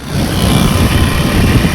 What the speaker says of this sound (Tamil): டாடா வண்டி.